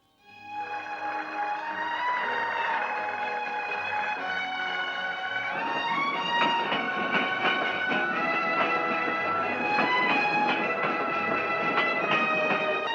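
A moving train rolls along with a continuous clattering rumble and clicking wheels, with tonal horn-like or whistle-like lines above it, close and steady for the whole stretch.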